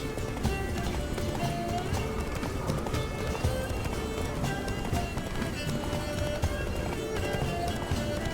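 Horse hooves pound in a steady galloping rhythm in The Witcher 3: Blood and Wine, over a dense, continuous bed of game music and effects, with no talking.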